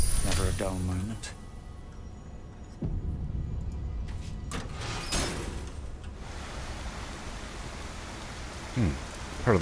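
River water flowing in a fantasy video game, a steady broadband rushing wash that stays even throughout, with brief clanks and a voice near the start and end.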